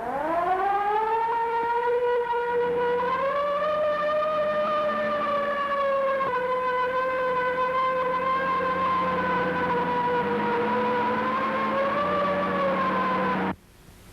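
A wailing police siren from a classic movie rises and holds steady, sounding loud and continuous for about thirteen seconds before cutting off abruptly.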